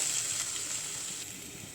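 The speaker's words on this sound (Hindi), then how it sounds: "इसे भी हम लो टू मीडियम फ्लेम पे भून देते हैं और प्याज और टमाटर, अदरक, लहसुन अच्छी तरह पक जाएंगे।" Onion, tomato, garlic and ginger fry in a little hot oil over a low to medium flame, giving a steady, close sizzle with no talking.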